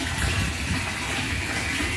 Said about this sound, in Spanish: Ahora sí, este tinaco se va a poder llenar